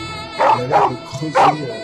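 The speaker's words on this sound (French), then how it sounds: "Juste à un moment, vous allez entendre un chien aboyer." A dog barks three times in a park lined with willows, close and loud with short gaps between the yelps, while a person talks.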